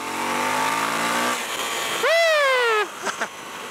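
A 2018 Suzuki V-Strom 1000XT motorcycle accelerates hard, its engine tone climbing steadily before a gear change, and a rider's loud whoop briefly rises over the engine noise.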